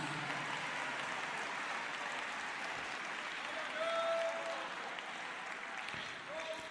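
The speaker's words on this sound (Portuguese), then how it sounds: "Aplauda o Senhor Jesus." Church congregation applauding in praise, a sustained broad wash of clapping with a few brief tonal voice-like whoops rising over it, steady and moderately distant.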